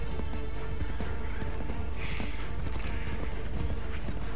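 Horse hooves galloping in Assassin's Creed III, a quick rhythmic clopping of hoofbeats that runs throughout, fairly close and steady under a dense bed of game ambience and music.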